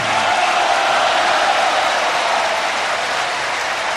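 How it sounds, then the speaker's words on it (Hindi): Steady, dense applause from an audience at a Jain religious discourse by Muni Sudhasagar, a loud, even roar of many hands that holds for the whole stretch without pause. "आपने जब तालियां बजाई हैं"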